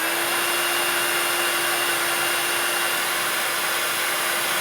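A heat tool warms mixed media bead material on a dowel, giving a constant airy blowing hiss with a steady whining tone, close and unchanging throughout, with no voices.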